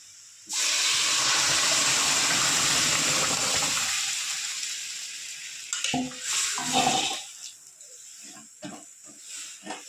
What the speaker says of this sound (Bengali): এবার আমি ডাল ঢেলে দেব।